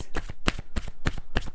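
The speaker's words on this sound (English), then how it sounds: "I'm just going to take a Romance Angel Oracle card for you, Aries." Romance Angel Oracle cards riffled and shuffled by hand, a run of close, crisp flicks in uneven bursts with no talking.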